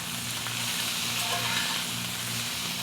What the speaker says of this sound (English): we're going to now cook this in this skillet, isn't it pretty, until the potatoes are crispy